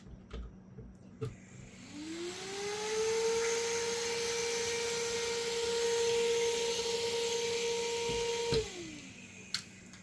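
An Antec computer cooling fan spins up to a loud, steady whirring hum with a rising tonal whine, runs for several seconds, then winds down; a few clicks punctuate it.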